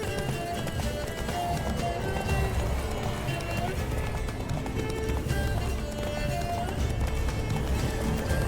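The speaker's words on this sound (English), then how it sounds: "Run, Roach" A horse gallops in The Witcher 3 with continuous rapid hoofbeats over game music and sound effects, while people talk throughout.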